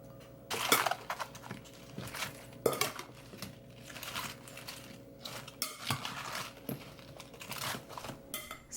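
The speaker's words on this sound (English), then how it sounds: "I'm going to whisk it up and mix it" Seasoning whisked in a bowl of hot water, with repeated quick metallic clinks and scrapes against the dish in an uneven rhythm, close and fairly loud, no talking.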